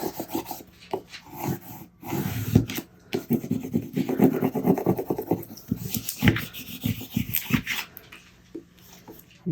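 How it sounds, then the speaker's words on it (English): Vinyl letters being scraped onto a Christmas nutcracker sign, worked from both sides, give repeated close rasping strokes in uneven bursts with short pauses, no talk. "Now we scrape from both sides."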